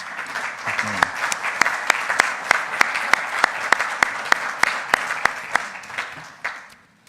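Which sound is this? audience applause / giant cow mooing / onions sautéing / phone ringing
audience applause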